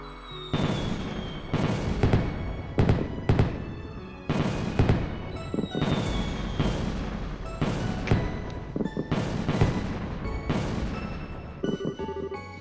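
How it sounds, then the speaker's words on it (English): Fireworks burst repeatedly in the video game Trails in the Sky the 3rd, loud booming explosions in quick irregular clusters with crackling tails and faint music underneath, filling the whole stretch. "Wow, fireworks. They're so pretty."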